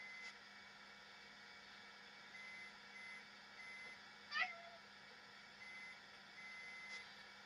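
Short electronic beeps sound from the head of a 1958 Williams Shortstop Deluxe pinball machine during rewiring, repeating faintly against a steady hum, with one brief louder click partway through.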